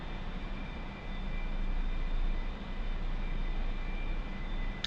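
A Douglas A-4E Skyhawk jet engine run at full throttle in a flight simulator, a steady, loud, continuous roar and whine with no speech.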